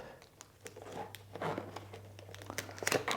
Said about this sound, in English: tape it around like that